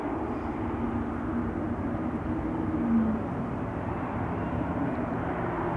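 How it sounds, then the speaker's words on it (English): A Diamond DA42 light twin-engine airplane turning in for runway 22 at Schiphol Airport, a steady low engine drone heard from a distance that holds level throughout, with no talking. "There's a little Diamond DA42 turning in for runway 22"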